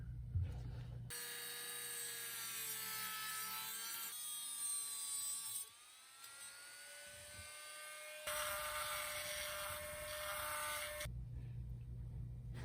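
Cutting into a BMW M52 intake manifold on an E30 turbo build, heard as a steady, faint grinding tool whine with shifting pitch and a short pause partway through.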